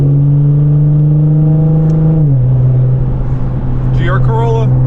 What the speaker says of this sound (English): GR Corolla.